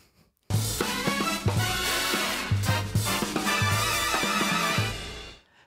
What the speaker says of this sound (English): how we would categorize that sound would be big band jazz